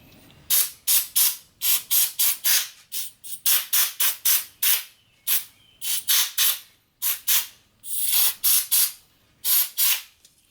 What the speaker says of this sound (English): I'm going to get some carb cleaner and just spray down in here.